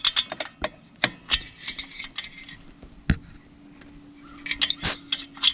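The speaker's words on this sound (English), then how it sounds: "Start it by hand, get it in there, bring your wrench around, and this will probably take 4 or 5." A wrench turns a spark plug on a Polaris TrailBlazer 250 ATV, giving close, irregular metallic clicks and clinks with quiet gaps between them.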